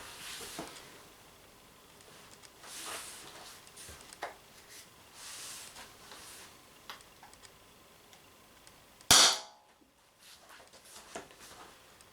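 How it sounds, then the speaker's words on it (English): Umarex TP50 Compact air pistol, 7 joule version, firing lightweight rubber balls: faint ticking and light clicks, then a single sharp, loud shot near the end, followed by quieter clicks. "Shooting the lightweight rubber balls."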